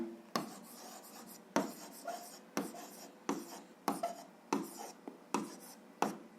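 Pen strokes scratch across paper in a regular series of about eight short bursts, each starting with a sharp tap, close and fairly quiet, while an algebra answer is written down.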